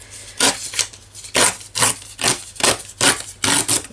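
A book page being torn against a used hacksaw blade serving as a tear ruler gives a series of about eight short, dry ripping and rasping strokes at a close, uneven pace, alone without talk.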